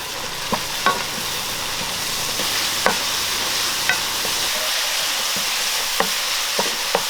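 Three medium onions sizzle steadily in hot oil, a continuous frying hiss punctuated by occasional scrapes and clinks of a stirring utensil.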